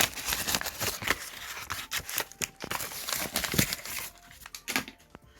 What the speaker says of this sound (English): Just cut him out.